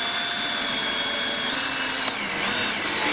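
A power drill drives screws into a log, a loud continuous high whine close by, steady throughout with a brief dip near the end.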